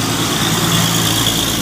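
A Euro 2 Hino Ranger truck at the port of Tanjung Priok, its engine giving a loud, close, steady idling rumble with a faint whine above it, unbroken for the whole brief stretch.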